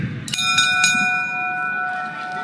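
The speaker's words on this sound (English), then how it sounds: "And at the sound of the bell" Boxing ring bell at a heavyweight fight in London, struck in a few sharp metallic clangs with long ringing harmonic tones that decay across the clip over a crowd murmur.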